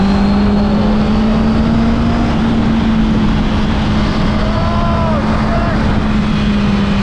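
A Honda CB650R inline-four motorcycle engine holds a steady, loud droning note at high revs. The sound is continuous and close, with a faint background whine.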